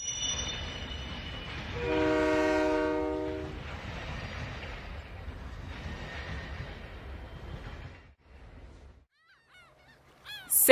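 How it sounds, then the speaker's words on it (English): High-speed train rushing past with a loud two-tone horn blast near the start, then a sustained rumble that fades out, alone with no talk. "High-speed train."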